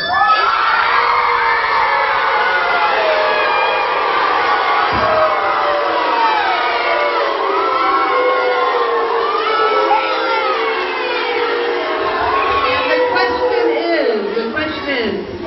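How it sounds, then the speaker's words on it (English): Middle school students at an assembly cheer and shout for their team, a loud, sustained crowd of young voices with whoops rising and falling for about fifteen seconds. "Go ahead and cheer for your team this time"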